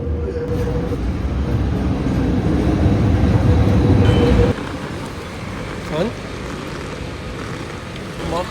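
Rumbling wheels and engine noise of a small tourist train in motion in the Pigalle area of Paris, loud and steady, then quieter rolling with faint squeaks and street ambience.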